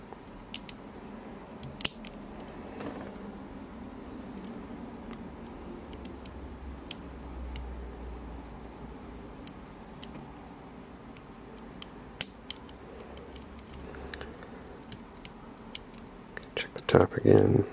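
Small metallic ticks and clicks from picking an Illinois Duo padlock, with sparse, irregular pin and tension-wrench clicks over a quiet background and a louder rattle of handling near the end.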